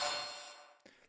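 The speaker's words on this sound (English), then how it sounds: "So now I have like a pretty sharp little metallic sound." A short, sharp metallic synthesized tone with a bright attack that quickly decays, followed by a faint second tap, quiet and alone.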